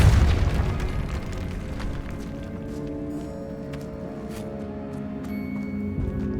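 A Depulso spell blast in Hogwarts Legacy opens with a heavy booming thump, then a rumbling decay that rings on for several seconds, loud and close.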